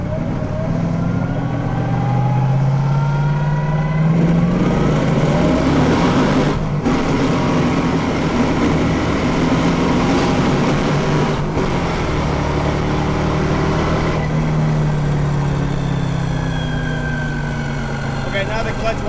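A nitrous-fed Mercedes-Benz engine with a failing clutch pulling hard, its droning roar rising and falling in pitch through several sweeps over nearly twenty seconds, loud and close, with someone talking over it.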